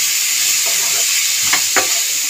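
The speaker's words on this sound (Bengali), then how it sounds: "শাকটা ভালো করে নাড়াচাড়া দিয়ে নিয়েছি" Radish greens stir-fried in a pan with salt and a whole green chilli give off a loud, steady sizzle, with a few quick scraping strokes from the stirring near the end.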